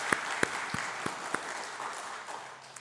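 A church congregation applauding to welcome a new pastor, fairly faint, steady clapping with a few sharper individual claps standing out, heard alone without talk.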